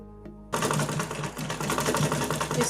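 An electric sewing machine stitches the belt seam on a dhoti salwar, starting after a brief pause and then running in a steady, close, fast mechanical whir of needle strokes that stays loud and even to the end.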